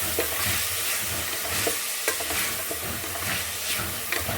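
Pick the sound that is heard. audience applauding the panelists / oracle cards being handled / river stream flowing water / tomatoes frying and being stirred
tomatoes frying and being stirred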